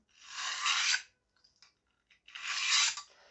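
A handheld drill fitted with an abrasive bit grinds a knife blade, making two harsh, raspy bursts of about a second each with a short gap of faint scrapes between them, close and fairly loud.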